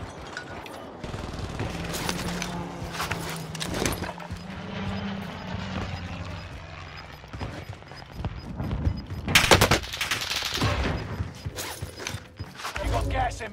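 A new SMG fires in Call of Duty Vanguard Warzone on Rebirth Island. Scattered bursts of automatic fire mix with clanking mechanical game sounds, with a louder cluster of shots near the end.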